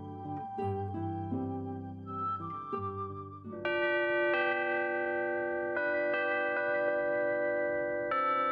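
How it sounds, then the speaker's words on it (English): Bells ring in a sustained, resonant peal, several tuned tones overlapping and changing pitch, with a fuller set of bells joining partway through and ringing on steadily at moderate volume. "If there is a holy sound on Earth, it is the ringing of the bells."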